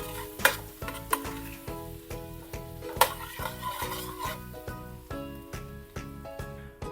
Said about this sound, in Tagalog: lagyan na natin tong 6 cloves na minced garlic. Medyo to style lang natin ng konti yung bawang.